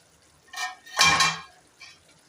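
A metal lid lifted off a cooking pot of onions simmering on low flame for a creamy onion curry, giving a short clatter and scrape close by, followed by a fainter clink, with no talking.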